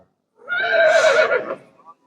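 A mare neighs once, loud and close, a shrill whinny rising then falling over about a second and a half.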